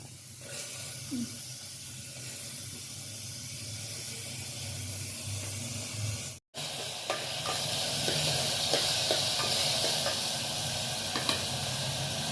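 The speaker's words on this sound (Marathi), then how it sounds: "आता तेल आपलं गरम झालेलं आहे, त्यात आपण कांदे टाकणार।" Onions hit hot oil in a pan while making masoor tadka dal, giving a steady loud sizzling hiss with faint stirring clicks, close up, briefly cut out then continuing stronger.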